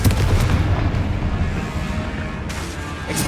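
Confringo blasting spell going off in Hogwarts Legacy combat, a loud, sustained booming rumble that fades slightly before a fresh burst near the end.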